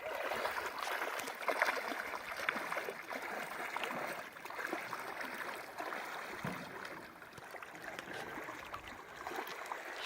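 River current flowing around a canoe on a summer river in Mio, Michigan, a continuous soft rushing and gurgling of water, steady and fairly faint, with no voices.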